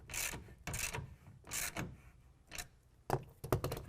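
A 9/16 ratchet clicks and rasps in short repeated strokes as it tightens a tonneau cover rail clamp on a 2014 Dodge Ram 1500 bed. The strokes are close and uneven, with a few sharper clicks at the end.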